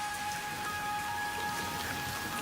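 Rain in the Mekong Delta wet season falls as a steady dense patter and hiss, even and continuous throughout, with a couple of faint thin tones above it.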